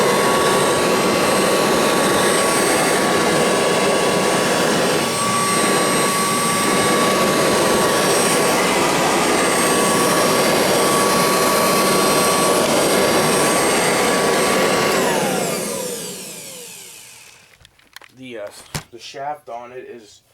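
A Kirby vacuum cleaner fitted with a plastic fan roars steadily at close range with a thin high whine, then winds down and cuts off, leaving a few faint clicks and handling noises.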